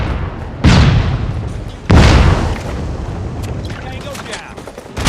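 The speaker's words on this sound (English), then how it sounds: "Watch out, flashbang!" A flashbang grenade goes off in the Call of Duty Mobile video game, with two loud, booming blasts a second apart over steady game ambience, followed by fainter clicks and pops.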